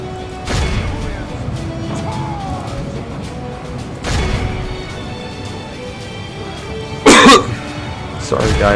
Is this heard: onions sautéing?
no